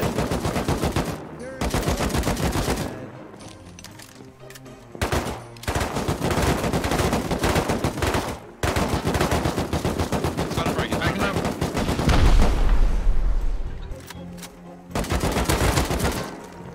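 Rapid automatic gunfire from a Rust firefight at a contested compound, loud and near, bursts rattling almost continuously with brief gaps and a heavy low thump partway through.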